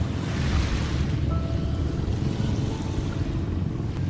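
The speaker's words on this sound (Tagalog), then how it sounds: "pinagmamasdan mo yung napakaganda, napakakalmadong karagatan ito ng Camp Sitio Tangal" A calm sea rolls against the shore at Camp Sitio Tangal beach. The soft wash of surf is steady and close, with a gentle breeze and no talking.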